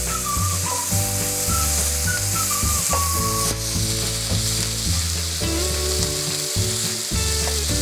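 Spiced masala with coriander leaves sizzles and fries steadily in a pan while a spoon stirs and scrapes it, making a loud continuous crackle with rhythmic stirring knocks and no voices.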